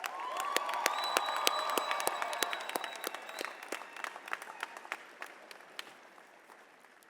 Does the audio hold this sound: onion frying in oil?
no